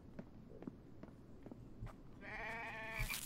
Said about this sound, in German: Da ist doch noch eine Ziege.